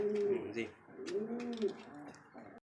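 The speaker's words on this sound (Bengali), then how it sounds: "এটা হচ্ছে ইরানি একটা হাই কবুতর" Iranian high-flyer pigeons coo softly and close by in a quiet setting, with a few rolling, throaty coos rising and falling, then a faint click at the end.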